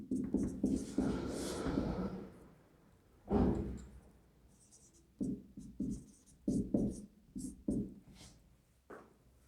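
Pen or chalk writing on a board or page during a political science lecture, a series of short scratchy strokes in irregular bursts with pauses between, close and fairly quiet, no talk.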